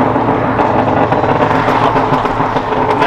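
Exhaust of a car fitted with a Phearable Stage 1.5 tune and catless downpipe as the throttle lifts around 3000 RPM in second gear, a loud, steady droning rumble with no distinct pops.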